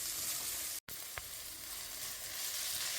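Chili con carne ingredients sizzle steadily in a hot pan while being stirred, a close, continuous frying hiss broken only by a very short gap.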